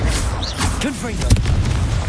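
A Confringo fire spell bursts in Hogwarts Legacy, played on hard difficulty: a short, fiery boom with a broad rumbling body, mixed with a nearby voice and other game sounds.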